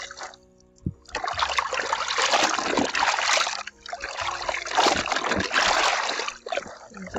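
Water trickles and splashes as jeans are squeezed gently by hand during hand washing, a steady wet dribbling that nearly fills the clip with short pauses between squeezes.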